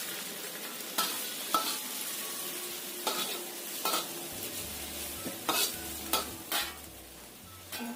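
Water poured into a pan of frying chilies sets off a loud, continuous sizzle, with a spatula scraping and stirring in sharp, irregular strokes against the pan.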